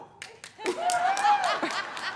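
An audience at a legislative report event breaks into a few scattered claps that swell into applause with laughter and voices mixed in.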